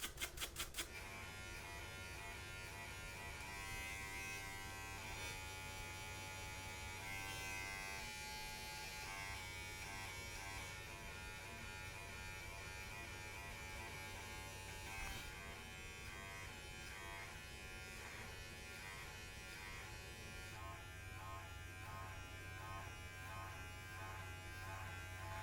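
Electric hair clippers with a guard attached cut hair during a self-administered buzz cut taper fade, giving a steady close-up buzzing hum that runs unbroken for the whole stretch, with no voices.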